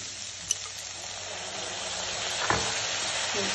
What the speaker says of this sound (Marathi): पत्ताकोबी टाकून त्याच्यानंतर आता थोडं टाकूया आपण सोया सॉस,